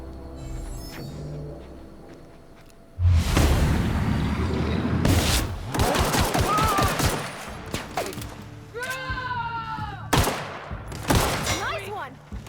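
Dense bursts of video game gunfire and explosions from The Outer Worlds, loud rapid volleys and booms in several clusters, with a talking voice running underneath.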